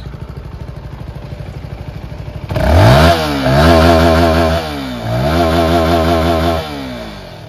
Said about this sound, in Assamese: এইটো এক্সাষ্ট চাউণ্ড শুনাই আছোঁ আপোনালোকক